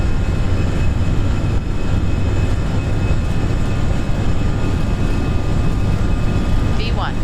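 Airliner jet engines spooling at takeoff thrust on the runway in a flight simulator, a loud steady roar with tonal whine that holds constant throughout.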